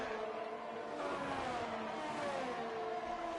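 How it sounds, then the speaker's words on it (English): Formula 1 cars in a racing video game at Zandvoort, a Ferrari and an Aston Martin side by side down the straight, give a steady, continuous engine whine with shifting tonal lines, moderately loud and alone. "there's a Ferrari and Aston Martin sandwich weaving down the straight"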